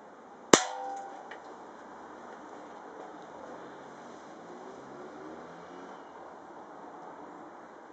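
A single sharp, close air rifle shot fires a grain pellet through an Arduino-built ballistic chronograph, a loud crack followed by a short ring and then quiet room hiss.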